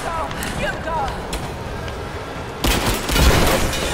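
In Rise of the Tomb Raider, a burst of rapid gunfire erupts partway through and keeps going as a loud, crackling volley. Before it, a voice is heard over quieter game sounds.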